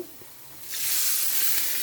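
A burst of loud sizzling erupts as water is poured into a hot pan of spices for chicken shorba, a steady hiss that holds after a quieter opening moment.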